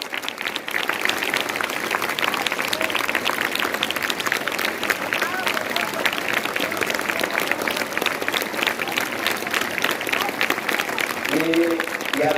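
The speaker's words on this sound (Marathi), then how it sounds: "गेले 1 तास तुम्ही टाळ्या वाजवता" A school audience at a Shivaji Jayanti and memorial gathering in Anagar claps in long, dense, sustained applause that stays loud and unbroken, with a voice briefly emerging at the very end.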